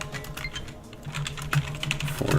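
Quick, uneven keystrokes on a computer keyboard clatter close by, a run of soft taps with a few louder clicks, with no talking over them.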